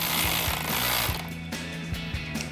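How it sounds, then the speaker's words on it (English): A bolt is tightened down with a 10mm socket while fitting a truck bed cap on a Toyota Tacoma, producing quick mechanical rattling and clicking bursts, close by and moderately quiet, with no talking. "just take a 10mm socket and tighten that down"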